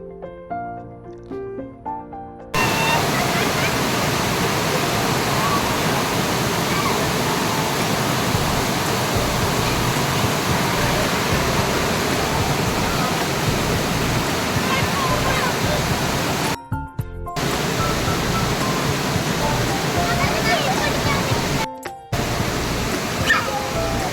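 A forest stream rushes loudly and steadily near Maniyara and Kanayi Kanam, a broad continuous roar of water that runs almost the whole time, with two short breaks.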